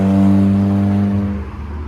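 A Renault Sport car at a Japanese car meet hums loudly with a steady low drone, then fades slightly as it rolls past nearby.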